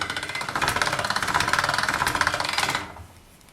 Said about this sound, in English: I'll run that through my pasta machine again